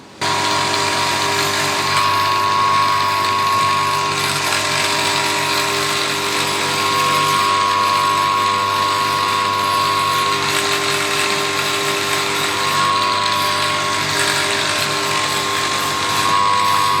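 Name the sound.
grinder finishing holes in a sandal sole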